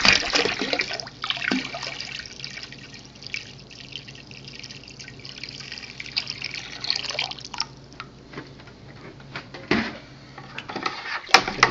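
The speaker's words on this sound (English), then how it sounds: "Definitely add some more water in." Water being poured into a homebrew wine batch, a steady liquid splashing and trickling that runs for several seconds with a few louder bursts near the end.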